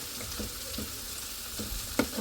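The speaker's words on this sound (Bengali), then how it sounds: "পেঁয়াজটা একদম সফট করে নিছি আর এখন হলো দিয়ে দিলাম টমেটো" Onion and tomatoes frying in a pan for a fish and potato curry, giving a steady low sizzle with a few soft stirring clicks and one sharper clink near the end, with no voices.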